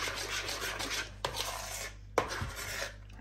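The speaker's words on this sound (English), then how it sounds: "And then just give it a good scrape around the edges." A spoon scrapes banana bread batter around the sides of a bowl in several rasping strokes separated by short pauses, close and fairly quiet with no talking.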